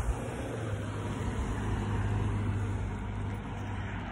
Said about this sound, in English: Car was going by.